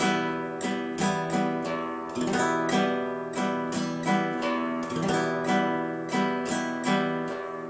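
Latin ballad strum on acoustic guitar, no percussive slap: thumb and finger strokes alternate in a steady, even pattern of ringing chords, played close and clear with no voices.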